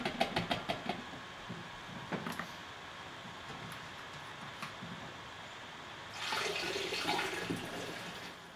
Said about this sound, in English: we'll fill it up another 1/3 of the way with water